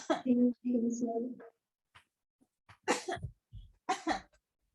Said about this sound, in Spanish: Estaba un ratito tosiendo.